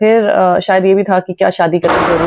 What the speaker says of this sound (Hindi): सॉरी आपको पीछे से पटाखों की आवाज़ आ रही होगी।